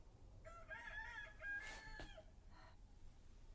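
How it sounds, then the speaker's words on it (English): A farm rooster crows once, loud and close, with a drawn-out rising call that ends in a short trailing note against quiet background. "This rooster will not stop crowing."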